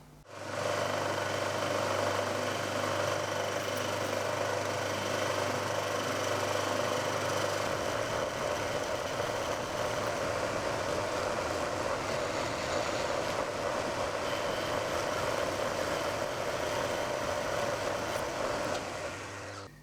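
A steady, loud machine drone with a constant high whine runs unbroken as a milling cutter makes a clean-up pass on a model aircraft engine crankcase, with no talk.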